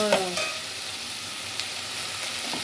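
Chicken sizzles steadily as it fries in a pan, with a few stirring scrapes near the start and a brief clink partway through. The sound is close and continuous, and no one speaks.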